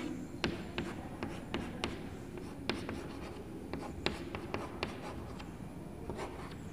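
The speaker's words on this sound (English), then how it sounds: "We draw the base. We write the places." Pen or marker strokes on a surface draw out an abacus in a maths lesson, a quick series of sharp scratchy taps and short strokes, close and fairly quiet, with no talking.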